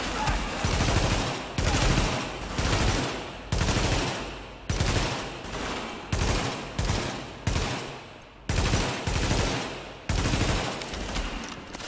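Short, loud automatic bursts from a full magazine being emptied in The Division repeat at a fairly regular pace, each burst trailing off before the next begins.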